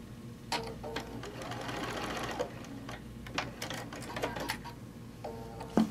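A sewing machine stitches a quilt seam, its rapid mechanical chatter running steadily and close throughout, with a few short pauses and clicks between bursts of stitching.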